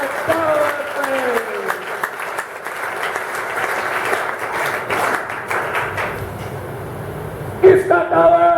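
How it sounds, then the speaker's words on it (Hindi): An audience at a motivational talk for students claps loudly and continuously, with a crowd murmur underneath and a voice speaking over the clapping near the end. "ताली बजाओ"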